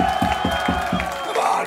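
A crowd at a live metal concert in Toulouse cheers and whoops. Heavy rhythmic thumps and ringing stage sound come first, then the cheering carries on alone near the end.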